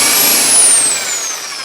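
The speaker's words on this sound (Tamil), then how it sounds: "நான் ட்ரில்லிங் மிஷினை வச்சு வந்து ஹோல் வந்து போட்டுக்கிறேன்" An electric drill bores holes in a metal lid for a homemade LPG gas stove, giving a steady, high-pitched whine that slowly sinks in pitch, up close with no talk.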